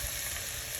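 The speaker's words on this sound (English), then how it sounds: "You really want to fry your spinach." Spinach frying in olive oil in a pan, a constant dense sizzle close up with no voices.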